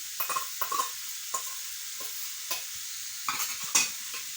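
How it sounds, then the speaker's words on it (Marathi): A spoon stirring spice powder and salt in a pan, giving short scraping strokes in irregular bursts over faint frying, with no talk. "आणि मीठ टाकून घ्यायचं आणि थोडंसं हलवलं"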